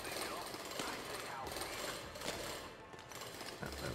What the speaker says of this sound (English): Drill that out